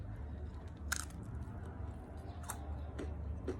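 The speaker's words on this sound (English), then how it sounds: "let me crunch one and taste one and show you" Biting and chewing a crunchy almond flour keto cracker, with a few sharp, separate crunches spaced over a few seconds against a quiet background, close and fairly soft.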